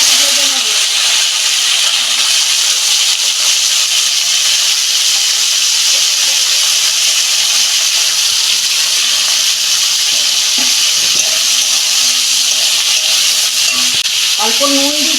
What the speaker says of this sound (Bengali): ওই তেলে বটবটিটা ভেজে নেব।